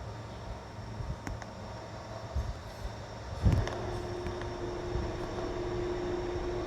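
Singapore airport transit tram running between terminals, a steady low rumble and hum of the moving car with a brief clunk partway through and a rising tonal whine afterward, continuous and close, with no talking.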